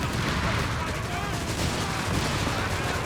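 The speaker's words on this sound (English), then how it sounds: "Shift fire on enemy troopers. Another grenade assault here." Gunfire and grenade assault in the strategy game Company of Heroes 3, a dense continuous clatter of small-arms fire and rumbling battle noise at a steady loud level throughout.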